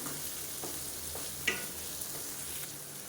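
Snake gourd fry stirred in a pan over a high flame, a steady low sizzle with soft scraping strokes and one sharper clink of the spatula midway.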